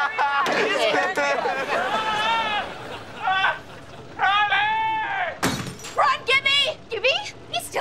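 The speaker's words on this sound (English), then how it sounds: "I threw a glass thing in there to buy us some time." Amid lively sitcom dialogue in a house, a thrown glass object smashes with a sharp, bright crash, surrounded by voices talking before and after.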